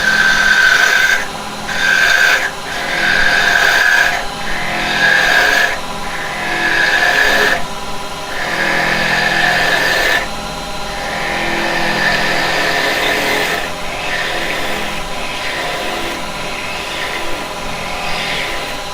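A carbide tool cuts a spinning workpiece on a woodturning lathe, making loud, close scraping bursts in repeated strokes over the motor's steady hum, with gaps between passes.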